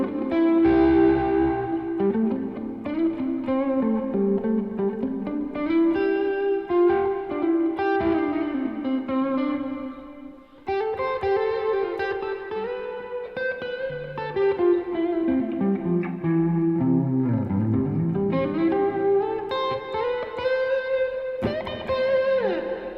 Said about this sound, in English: It's just again, a reverb that reflects what you already sound like.